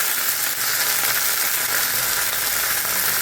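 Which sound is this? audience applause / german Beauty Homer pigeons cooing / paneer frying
paneer frying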